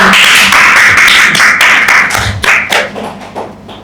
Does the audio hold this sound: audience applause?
yes